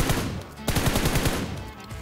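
Automatic weapon fire in PUBG Mobile: one shot, a brief pause, then a rapid burst of about seven sharp close gunshots in quick rhythm, loud and alone.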